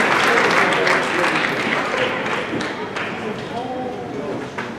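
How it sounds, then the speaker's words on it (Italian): Audience at a fencing team final between Korea and Italy applauding, a dense, loud burst of clapping that slowly fades, with voices talking over it in the hall. "facciamo un applauso per quest'ultimo assalto"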